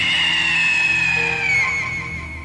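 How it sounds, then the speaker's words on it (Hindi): A loud, drawn-out scream sound effect in a horror story, a shrill sustained cry that holds steady and then fades slightly toward the end, heard alone without talk. "सुनसान रास्ते से एक जोरदार चीख सुनाई दी"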